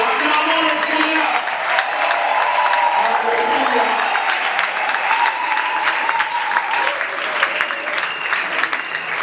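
A church congregation at a Pentecost service claps and cheers in loud, sustained applause, with voices calling out and singing over the clapping throughout.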